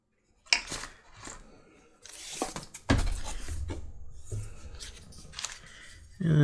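Leather straps being cut with a 1 1/8 inch strap cutter: several separate dry, scraping cutting strokes, close and fairly loud, with brief pauses and handling knocks between them.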